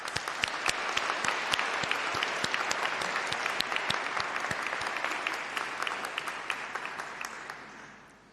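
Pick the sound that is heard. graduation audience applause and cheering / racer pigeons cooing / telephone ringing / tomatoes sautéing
graduation audience applause and cheering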